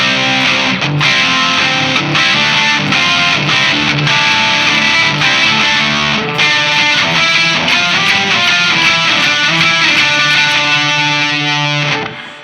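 An electric guitar plays through a Walrus Audio Fundamental distortion pedal with the drive maxed out, giving loud, saturated chords and picked notes in a steady strummed rhythm that ring out at the end.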